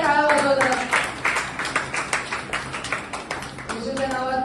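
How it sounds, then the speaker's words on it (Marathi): An audience claps at a Women's Day celebration in a church fellowship, a burst of uneven hand claps with tonal voices and music-like sounds sitting over it, loud at first and easing toward the end. "सर्वांनी जोरदार टाळ्या वाजवा"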